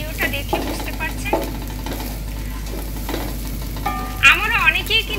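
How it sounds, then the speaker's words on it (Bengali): Egg is stirred and scrambled with a ladle in a frying pan while making Chinese chicken vegetable fried rice. Close clinks and scrapes run over a soft sizzle, and a brief squeaky scrape comes near the end. "এবার হাতা দিয়ে ডিমটাকে কিন্তু একেবারে নেড়ে চেড়ে ঝুরি করে ফেলতে হবে।"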